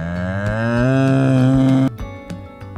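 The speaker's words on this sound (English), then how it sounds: "Cow." A cow moos once, a long loud low call with rich harmonics that rises slightly and stops abruptly, followed by a short quieter tail of bleating or mooing sounds.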